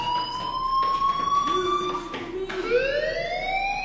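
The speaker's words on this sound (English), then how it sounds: "Hey, do you hear that fire alarm?" A school fire alarm in the video game Life is Strange sounds as a steady, loud electronic tone with bright overtones that holds for several seconds, then sweeps upward in pitch near the end.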